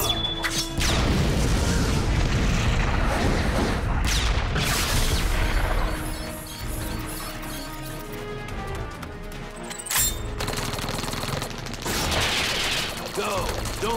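Reactor explosion on an island in the video game Batman: The Brave and the Bold, a loud sustained roar of booms and crashing debris with scattered impacts, swelling again near the end, mixed with game effects.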